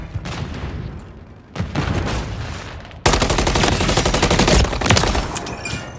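Rapid gunfire in a Modern Warfare 3 match: dense bursts crackle through the first half, then after a short pause a louder, continuous barrage of automatic fire takes over and holds to the end.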